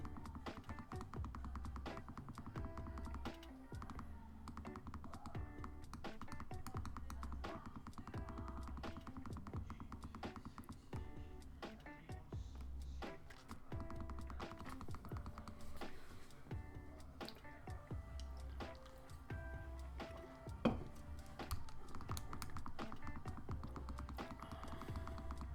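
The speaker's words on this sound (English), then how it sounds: "I like hearing the clickety clack of a keyboard. It's a Razer Black Widow Elite, I think, with the green keys" Clicky typing on a Razer BlackWidow Elite mechanical keyboard with green switches, a continuous run of close, rapid key clacks with irregular rhythm that carries on throughout under game audio.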